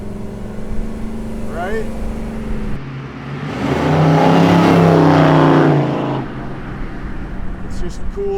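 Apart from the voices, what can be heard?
1971 Chevrolet Chevelle SS 454 engine running and revving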